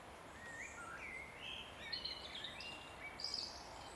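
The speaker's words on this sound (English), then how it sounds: "A couple of blackbirds singing." Faint birdsong drifts through mixed woodland, fluting phrases from a couple of blackbirds against a soft background hiss.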